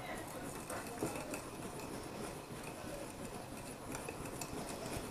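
Cookie dough for budget soft one-egg chocolate cookies, with baking powder in the flour, is stirred with a utensil in a bowl, giving a steady, continuous scraping and clinking texture at moderate level with no talk.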